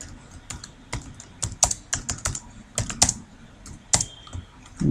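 Computer keyboard typing PHP code, irregular bursts of crisp close key clicks with short pauses between runs, clear and fairly quiet.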